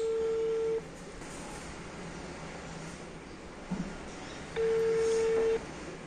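A mobile phone call being placed: a long steady ringback tone, a stretch of quiet line with a small click, then a second identical ring tone, faint and close.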